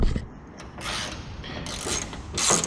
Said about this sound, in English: we've got a couple more bolts here that we've got to undo